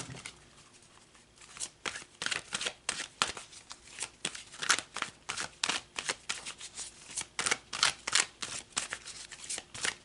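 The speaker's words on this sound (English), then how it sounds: "So let's pull some more cards" Tarot cards being shuffled by hand in a quiet room: a steady run of crisp riffling bursts and soft flicks, close and clear, repeating over several seconds with no one talking.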